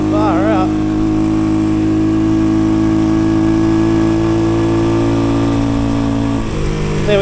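A Keeway CR152 motorcycle engine pulls hard in second gear up a steep hill on a New Zealand adventure ride, a loud, steady droning labour that holds through the clip and shifts pitch briefly near the end.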